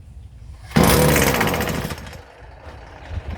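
A Stihl FS 56 RC string trimmer's small two-stroke engine catches after a cord pull, bursting into a loud buzzing rev that fades down to a rougher idle, close by.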